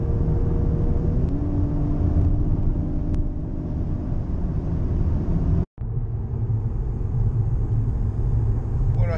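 A 2017 Mercedes-AMG E43 cruising on the German Autobahn, a steady close road and engine rumble inside the cabin that cuts out for a moment partway through, then resumes.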